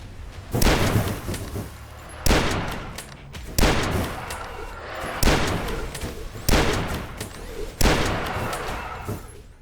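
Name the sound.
rifle shots in the video game Beneath Dusk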